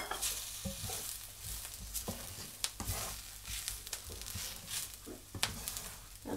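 Grated fresh coconut masala roasting in a pan over a low flame, with soft scraping stirs and a light sizzle coming in irregular bursts, quiet and close.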